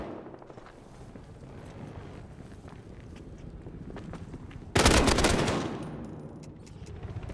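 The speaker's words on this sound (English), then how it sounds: "I shot that bitch in the head" Gunfire in the console shooter Battlefield Hardline on Xbox One: a steady rattle of distant shots and footsteps, then a loud close burst around the five-second mark that decays over the next second, with game ambience continuing.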